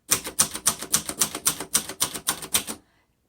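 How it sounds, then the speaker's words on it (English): A 1962 Royal Signet manual typewriter clacks through about ten crisp, evenly spaced keystrokes, close and distinct, before stopping into silence. "typewriters will type differently for us"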